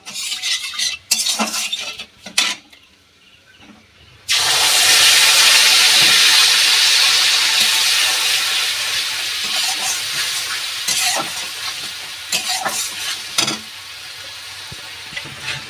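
Ground spice paste dropped into hot oil for a butter paneer masala, a loud sudden sizzle that keeps hissing and spitting steadily, with occasional stirring scrapes and clinks over it.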